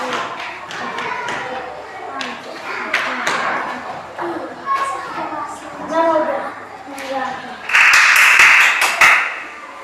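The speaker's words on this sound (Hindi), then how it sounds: "ताली बजा दो सब कोई" Children clap together in a Hindi-medium primary school classroom during an addition lesson: a short, dense burst of clapping near the end, close and loud, following a teacher's steady talk with scattered desk taps and thumps.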